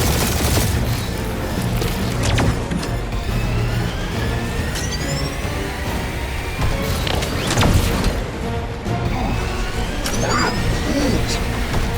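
Gunfire in Marvel's Guardians of the Galaxy: a dense game battle with repeated shots and bursts over a steady rumbling background, busy and loud throughout, with voices mixed in.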